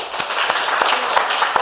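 A Korean church congregation claps together during a sermon in a quick, regular rhythm, the claps loud and close, without voices over them.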